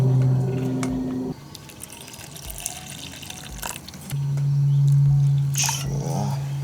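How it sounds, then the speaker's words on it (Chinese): Boiling water pours over ginger, garlic and chili in a bowl. A steady splashing stream is heard close by, with a brief pause before a second pour. "把姜蒜、海椒弄点开水泡一下"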